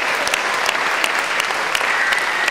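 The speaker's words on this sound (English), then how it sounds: "why don't we just give a massive clap to God for all that he's done" A church congregation gives a sustained round of clapping, dense and even throughout with no voices standing out.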